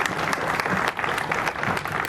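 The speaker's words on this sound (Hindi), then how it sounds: "सब लोग एक साथ ताली बजाकर एक दूसरे" An audience claps together at the opening ceremony of a synod in a cathedral in Bettiah, a dense, continuous burst of applause filling the room for a couple of seconds.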